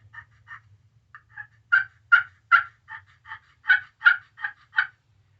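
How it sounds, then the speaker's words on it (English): A glass turkey call played with a wooden striker gives a run of about a dozen sharp, clear yelps, first spaced and soft, then louder and quicker in two bursts, close and alone. "now when you guys run it with wood, it's going to give a very, I like just the deeper sound of it"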